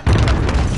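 A single heavy boom from a cruise missile explosion in a video game, loud and close with a sharp onset and a rumbling low-end tail.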